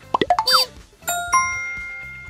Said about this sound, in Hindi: घंटी बजी है, पुनीत ही आई होगी।